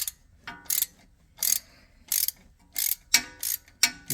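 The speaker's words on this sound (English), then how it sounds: "so I'm just gonna ratchet that." A ratchet wrench turns the wheel speed sensor bolt on a 2012 Ford Focus, giving about seven short bursts of loud clicking in an uneven rhythm with brief pauses between strokes, close up and with no talk.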